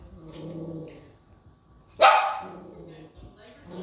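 A single sharp dog bark rings out close by, with a quiet voice talking softly before and after it.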